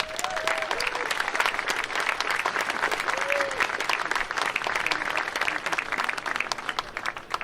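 An audience at the grand opening of the Space Shuttle Atlantis exhibit applauds loudly and steadily, welcoming Rick Abramson, president of Delaware North Parks and Resorts, with the dense clapping carrying through the whole stretch.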